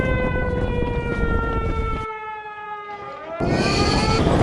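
An alarm siren before J-20 stealth fighter jets scramble, a loud, steady wailing tone with harmonics that drops away briefly and then returns with broadband noise.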